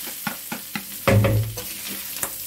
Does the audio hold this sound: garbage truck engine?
no